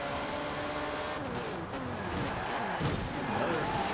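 A Ford Escort RS rally car launches hard from the start in a snowy racing video game, its engine revving steadily and loud throughout with a continuous throaty drone and faint gravelly tire noise.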